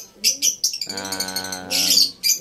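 African lovebirds chirp nearby in sharp, shrill bursts, with a buzzy harmonic call in the middle of a short run of repeated tweets.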